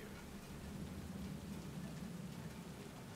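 Steady rain pours throughout a night scene in the video game Cyberpunk 2077, a dense, even hiss with a low rumbling undertone, continuous and fairly faint with no voices.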